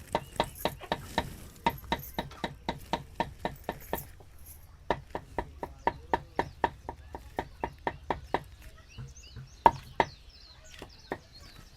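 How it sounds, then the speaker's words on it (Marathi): A knife chops fresh okra (bhendi) on a board in a village-style kitchen, with a rapid, steady run of sharp, close taps that pause briefly and then resume in the same even rhythm, and no talking. "भेंडे पुसून घेतले मी. आता चिरून घेते."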